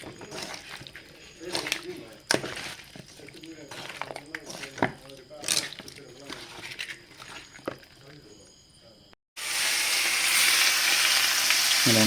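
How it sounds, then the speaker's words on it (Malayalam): Snakehead fish (varal) frying in a pan, steady oily sizzle beneath talking, then a loud, dense burst of hissing splatter near the end as more fish hits the hot oil. "അങ്ങനെ നമ്മൾ വരാലിനെ വറുത്തുകൊണ്ടിരിക്കുകയാണ്."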